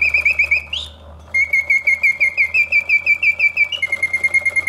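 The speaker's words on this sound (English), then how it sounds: "a vintage 1950s singing bird cage in absolutely gorgeous condition all the way around" Vintage 1950s mechanical singing bird cage with a solid brass bird, giving loud, close, rapid warbling chirps and whistled trills in a steady repeating rhythm, briefly pausing before the song resumes over a faint mechanical hum.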